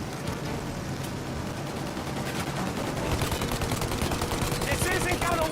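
Sustained automatic gunfire aimed at a plane's engines in Mafia Definitive Edition, dense rattling bursts over a roaring engine backdrop, steady and fairly loud throughout.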